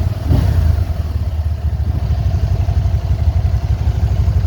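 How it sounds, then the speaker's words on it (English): A Can-Am Spyder three-wheeler, a manual model, idles close by just after being switched on, a loud, steady throbbing engine rumble with rhythmic low pulses and no voices. "The Can-Am Spyder is on."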